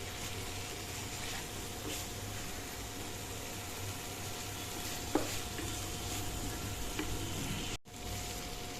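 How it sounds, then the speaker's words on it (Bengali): Shredded cabbage going into a pan of well-fried spices, with a constant low sizzle and soft stirring, one brief clatter midway and a short dropout near the end. "এবার আমি বাঁধাকপিটা দিয়ে দেবো।"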